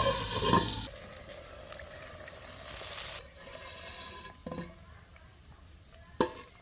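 Chicken stirred in a hot sizzling pan, a loud scraping burst at first, then a steady sizzle with a couple of sharp scrapes near the end.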